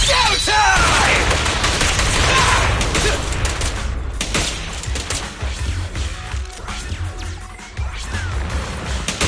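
Gunfire in a loud action scene: rapid volleys of shots with crashing, smashing impacts, dense and close at first, then thinning into scattered bangs and thuds, with shouting voices mixed in.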